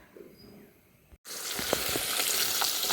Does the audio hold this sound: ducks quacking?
no